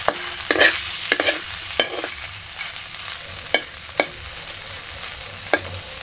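Garlic sizzles and browns in a frying pan in a home kitchen, a steady soft crackle broken by sharp clicks and scrapes as a utensil stirs the pan, close and without talk.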